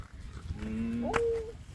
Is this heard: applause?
no